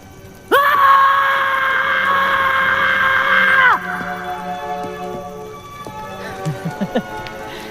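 A man screams at full voice, a loud sustained cry of about three seconds. A softer, trailing vocal sound follows, then a few short rhythmic thumps near the end.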